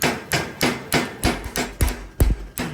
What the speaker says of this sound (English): So just hammer it very slowly.